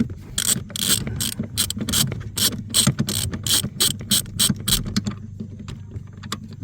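A hand ratchet clicks in a steady run of quick strokes while loosening a rear seat bolt inside a 2016 Dodge Charger SXT, close and fairly loud, with the clicking easing off near the end.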